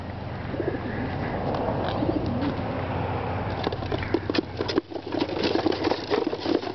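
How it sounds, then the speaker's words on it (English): Racing pigeons released from a basket on a long training toss coo and rustle steadily, a burst of wing flapping and patter breaking out near the end over a low engine hum. "I'm getting ready to release the birds now."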